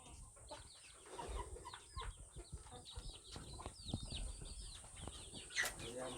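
Chickens on a poultry farm with a concrete floor cluck and squawk in irregular bursts, with wing flaps among them, fairly close and lively against a constant background hum.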